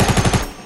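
Machine gun fire in the video game Fortnite rattles in a rapid burst of about five loud, evenly spaced shots, then cuts off into a short fading tail.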